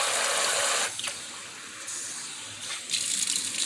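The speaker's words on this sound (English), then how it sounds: "we're going to go ahead and rinse off our rice" Tap water gushes into a sink while rice is rinsed, a loud close rushing stream that briefly drops to softer swishing and sloshing before the flow surges again, with no talk.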